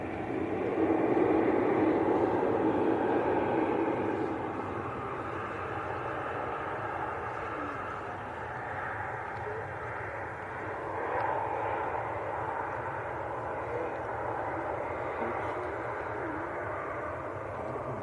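A Singapore Airlines airliner taxis out at Manchester Airport, heard as a steady, broad jet-engine rumble at moderate distance. It is loudest in the first few seconds, then settles into a constant whooshing drone with no voices.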